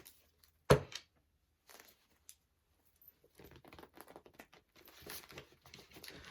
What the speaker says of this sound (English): I'm trying to shuffle these cards